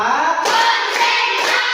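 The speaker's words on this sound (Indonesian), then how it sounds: "tepuk 1, tepuk 2, tepuk 3, tepuk 4" Children clapping in unison during a counting clap game in a classroom, several sharp group claps in a quick rhythm, close and loud, with voices chanting along.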